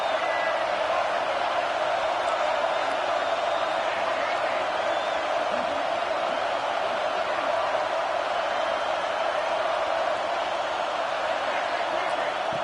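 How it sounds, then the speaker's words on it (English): Stadium crowd roaring on third down at a college football national championship game, Baylor versus North Carolina, a steady, broad wall of cheering noise with commentary talk over it. "3rd down, and the crowd really getting into it"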